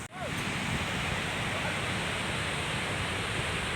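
Mountain stream water rushing along a trail on the Amarnath Yatra route between Pissutop and Sheshnag, a steady, loud, broadband roar that carries unbroken throughout.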